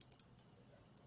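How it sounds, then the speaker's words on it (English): Three quick sharp mouse clicks at the very start of a Photoshop editing session, the first pair forming a fast double click, then near silence with faint room noise. "I can do that by double clicking on this"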